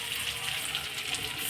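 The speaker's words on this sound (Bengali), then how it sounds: "এবার পরিমাণ মতো একটু জল দেব।" Water is poured into a pan of cooking prawns, a brief, soft gushing splash heard up close and fairly quiet, with no clear talking.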